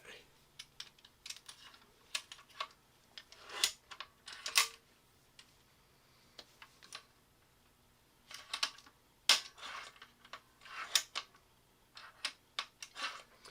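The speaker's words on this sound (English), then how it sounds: "So what I'm doing is cocking, but I'm not dry firing. I'm holding the trigger." A 357 Challenger air pistol being cocked repeatedly while the trigger is held, producing sharp metallic clicks and clacks in irregular bursts, close up and fairly faint, with quiet gaps between actions.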